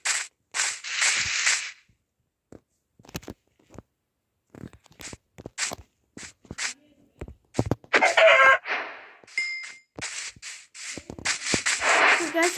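A chicken clucks in Minecraft, short scattered game-animal sounds and clicks with quiet gaps and a denser burst of game noise near the end.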